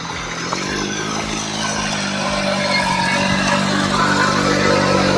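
A motorcycle rides along a village road beside a dam, its steady mid-pitched engine drone holding loud and close for the whole stretch, with no talking.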